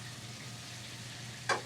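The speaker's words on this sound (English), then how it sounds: "So I'm basting the turkey breast here to get the skin crisp." Turkey breast basted with sizzling butter and fresh thyme in a hot pan, a steady close crackling sizzle with one brief sharper spatter near the end.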